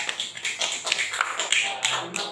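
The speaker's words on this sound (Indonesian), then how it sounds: "Tepuk tangan buat Dala" Children in an Islamic studies class clapping for a classmate, quick uneven claps close by, steady for a couple of seconds.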